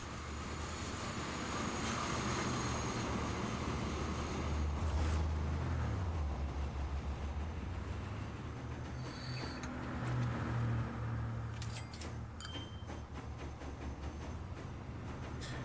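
Train in the Transport Fever 2 video game running continuously, a steady low rumble with creaking mechanical clatter and occasional higher squeals, no talk.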